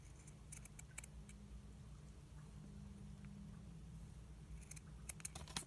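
Scissors snip a floral paper tag for a junk journal in a few quiet, close cuts, faint crisp clicks at the start and again near the end over a low background hum.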